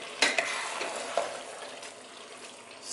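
Spinach being stirred in a pot for efo riro, heard as soft scraping and sloshing strokes with a few sharper clacks of the spoon against the pot over a faint sizzle.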